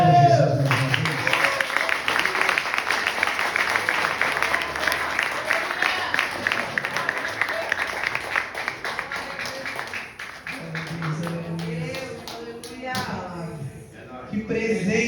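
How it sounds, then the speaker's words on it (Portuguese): Congregation applauds during a church service, sustained clapping and crowd noise that tapers off, with voices and music-like tones rising near the end. "Aplauda Jesus mais uma vez."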